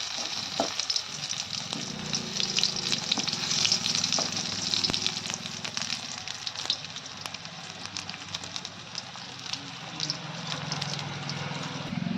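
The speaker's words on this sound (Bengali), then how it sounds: "লাল লাল করে বেগুন ভেজে" Eggplant slices frying in oil in a pan give a steady close sizzle with scattered sharp crackles and pops, continuing evenly throughout with no talking.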